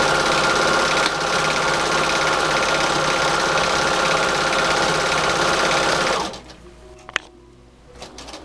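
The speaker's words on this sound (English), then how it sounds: "Just going to tack my stitch and then sew." A sewing machine stitches a shirt seam, whirring loud and steady for about six seconds before stopping, after which a few faint clicks and handling noises follow.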